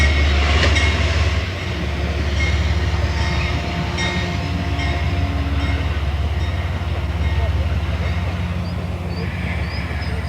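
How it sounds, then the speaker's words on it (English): A train rolls in at the Iron Center Museum with a loud, steady rumble and faint clickety-clack of wheels, while people talk over it throughout. "it's kind of amazing how we can get a train to come in just when we're going to wrap it up"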